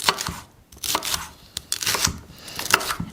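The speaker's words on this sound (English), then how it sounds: "And then I cut the pepper into strips." A knife slices a bell pepper into strips on a cutting board, with several crisp, close cuts in an uneven rhythm and no voices.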